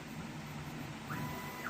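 A Prusa XL 3D printer runs with a steady mechanical hum, and its stepper motors give faint, brief high chirps as it shifts and moves quickly.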